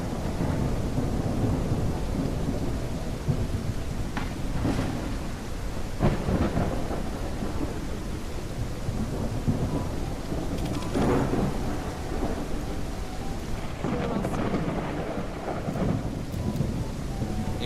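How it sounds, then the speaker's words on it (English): A thunderstorm in the medieval game Noble Legacy pours steady heavy rain, with repeated low thunder rumbles rising and fading over the constant wash of rainfall. "Wow, what a wonderful place to go and get rained out."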